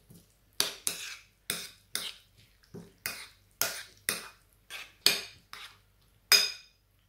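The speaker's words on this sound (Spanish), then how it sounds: "Y todo esto lo vamos a mezclar." Chopped parsley and salt being mixed in a bowl, a series of about a dozen distinct scraping and clinking strokes of a utensil, close and fairly quiet with brief pauses between.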